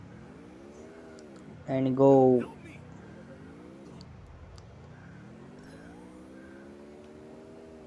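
A car engine in a video game revs and drives, its pitch sweeping up and down in long rising and falling surges, with a short louder burst early on and people talking over it.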